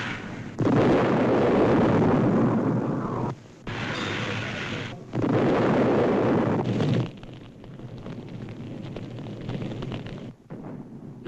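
A World War I artillery bombardment roars as a heavy, continuous rumble of blasts in long loud stretches broken by brief pauses, dense and distant with no distinct single shots.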